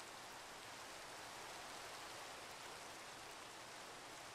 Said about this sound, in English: enjoy the sound of rain for a minute